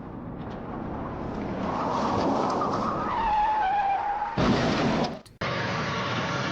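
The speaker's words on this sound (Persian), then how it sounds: "یکی از اونا صدای سرعت ماشین رو هم ضبط کرده بود" A car speeds along a road near a crash site, caught by a roadside camera: a sustained engine roar climbing in pitch, then a sharp tire skid and screech before the sound cuts out abruptly and resumes as steady road noise.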